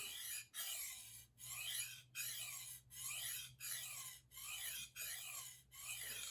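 A knife blade is drawn repeatedly across diamond sharpening stones lightly coated in mineral oil, giving about nine evenly spaced rasping strokes, each a bright scrape separated by brief pauses, close and alone.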